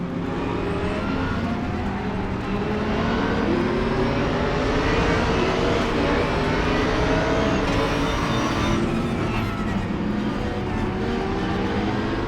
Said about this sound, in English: the two Mercedes matching engine notes, really cool